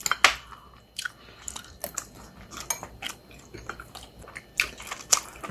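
Freshly caught Okhotsk atka mackerel is eaten, with close, soft wet chewing and occasional crunchy bites in an irregular rhythm, no voices.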